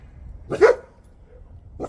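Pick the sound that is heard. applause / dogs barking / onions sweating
dogs barking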